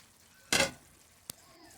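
Pre-fried chicken pieces dropped into a pan of chilli chicken sauce with ketchup, giving one brief loud sizzling burst followed by a single short clink, then quiet.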